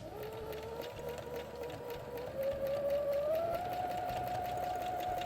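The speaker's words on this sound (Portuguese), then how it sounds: "Para fazer o quilt, a gente tem que ter a costura livre e começar a mexer." A sewing machine doing free-motion quilting on a fabric pencil case hums steadily at close range, its motor whine rising gradually in pitch as it speeds up, with a fast stitching rattle underneath.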